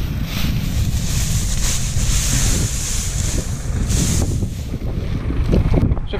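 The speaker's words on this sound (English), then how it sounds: "the wind is blowing the top off very nicely" Wind gusts steadily over a headland field of spread-out wet straw during harvest, a continuous loud rushing roar with buffeting against the microphone and no voices.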